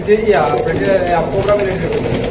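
A cobra military pigeon coos softly up close beneath louder conversation between people nearby.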